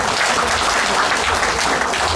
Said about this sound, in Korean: 이은경 연주자에게 뜨거운 박수를 보내주시기 바습니다